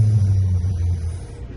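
A deep, gravelly low electric guitar rumble hums steadily with a buzzing, zipper-like texture, thick overtones throbbing close and loud before fading out.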